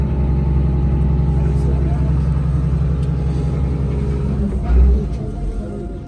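A Hino 7C turbo diesel engine from 1990 idles steadily with a deep, continuous low rumble, close and loud, with a brief heavier surge near the end.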